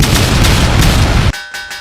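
Continuous heavy booming blasts, dense and loud, like rapid cannon or artillery fire, cutting off abruptly into a few quieter fading rumbles, in an animated series.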